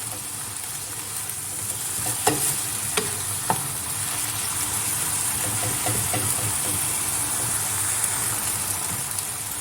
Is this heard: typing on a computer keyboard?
no